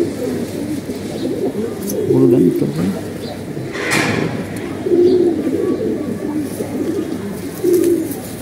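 Pigeons being paired by a breeder give repeated low, rolling coos at intervals, fairly close, while someone talks over them.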